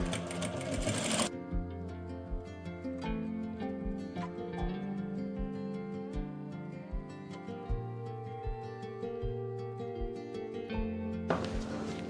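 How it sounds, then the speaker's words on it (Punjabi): A sewing machine stitches the front slit neck of a kameez in a close, steady rhythmic whir, with sharper rattling bursts at the start and end of the run. "ਇੱਕ ਸਲਾਈ ਆਪਾਂ ਨੇ ਹੋਰ ਲਗਾਣੀ ਆ ਹੁਣ ਇਧਰਲੀ ਸਾਈਡ"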